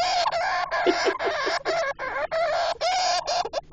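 A hamster giving a rapid, chirpy laughing-like call, a close string of squeaky bursts with short pauses between them, sounding almost like clucking.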